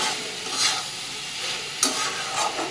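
A soybean dish being sautéed in a pan for a vegetarian meal, stirred in a steady sizzle with a few scraping strokes of the spoon against the pan.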